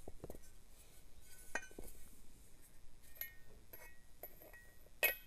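An HX35 turbo compressor housing is fitted into place, giving a few faint, scattered metallic clinks and taps against a quiet background.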